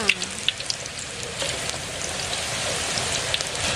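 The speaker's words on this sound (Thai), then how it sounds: "พอน้ำมันร้อนนะคะ เราก็ใส่ มันม่วงเราลงไปเลยค่ะ" Purple sweet potato frying in hot oil: a steady, dense crackling sizzle with scattered small pops, close and fairly loud throughout, no voices.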